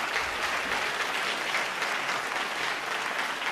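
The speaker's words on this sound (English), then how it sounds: "Another round of applause, please." A large audience applauds at the St. Gallen Symposium Global Essay Competition award ceremony: dense, steady clapping fills the room for several seconds at an even level, with no voices on top.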